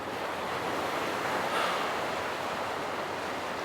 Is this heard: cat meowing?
no